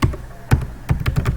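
Keys clatter on a computer keyboard in short bursts of irregular taps at close range, while someone works in a server configuration setup, and no voice is heard.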